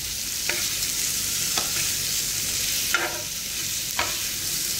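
Fresh creek prawns and capsicum sizzle on a tawa over a low flame, a steady hiss of frying broken by four sharp scrapes of a spatula stirring the pan.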